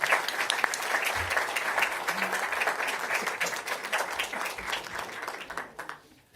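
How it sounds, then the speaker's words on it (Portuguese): Steady applause from a room of attendees at a presidential press conference in France, many hands clapping in a dense, even patter that fades out near the end. "Ninguém bate palma para o Mauro."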